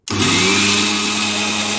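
Philips 500 watt mixer grinder grinding a paste, a loud steady whirring motor drone with a constant high buzz that starts abruptly and runs without pause, close up and alone with no voices.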